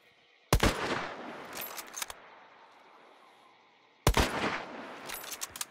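Two sharp, loud gunshots ring out several seconds apart at a corner in Hunt: Showdown, each followed by a decaying echo tail over a quiet ambient background.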